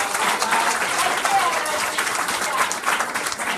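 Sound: audience applause for presenters

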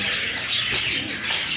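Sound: pigeons cooing

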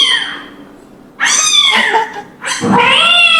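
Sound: cat meowing

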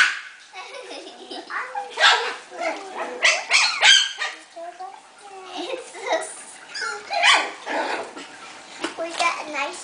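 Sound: puppies

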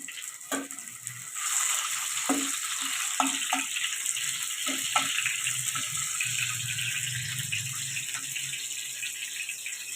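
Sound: whole cumin and tomato sizzling in hot oil

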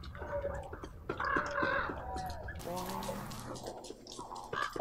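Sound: bird in Don't Starve Together video game

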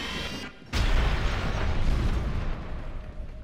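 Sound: giant bomb exploding in video game LEGO Dimensions

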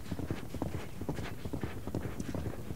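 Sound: horse hooves clip-clopping while being ridden

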